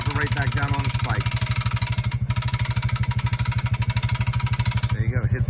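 An ATV winch pulls a log onto a log hitch behind a Honda Rancher ATV, a loud steady rapid mechanical chatter running throughout with a voice talking over it.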